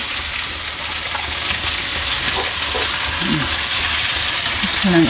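Boiled goat intestines (boti) frying in oil in a home kitchen, a steady, loud sizzle running the whole time with occasional stirring scrapes.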